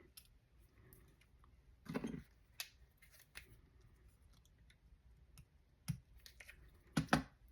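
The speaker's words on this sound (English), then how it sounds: "I'm gonna cut off that piece of lace and have that just peeking out" Scissors snip through a piece of lace in a quiet craft setting, making a few soft, separate cuts spread over several seconds, with no talking.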